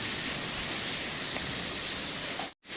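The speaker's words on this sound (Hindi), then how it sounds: "बहुत तेज़ बारिश हो रही है" Heavy rain pours down in front of a house, flooding the ground, in a dense, unbroken roar, loud and close, cutting off abruptly at the very end.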